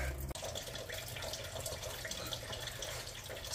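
Coolant drains from the radiator drain of a 1978 Ford F100 rat rod, a steady close splashing, trickling pour of liquid that runs on continuously after a brief click at the start.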